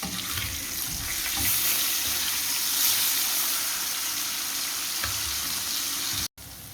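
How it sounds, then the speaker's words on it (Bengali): Koi fish fries in oil with a dense, even hissing sizzle that holds steady, then cuts out abruptly near the end before resuming more quietly. "এখন কই মাছটাকে ভেজে নেব।"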